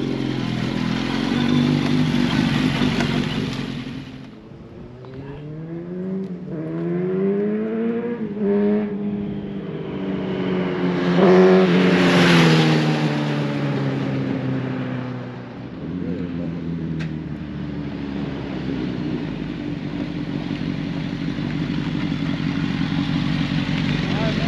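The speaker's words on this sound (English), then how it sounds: "let's go see what this GSXR 1000 can do now" Suzuki GSX-R 1000 sport motorcycle accelerating hard through several gears, its engine note climbing and dropping with each shift, loud and close, then settling into a steady high roar; a voice talks over it at times.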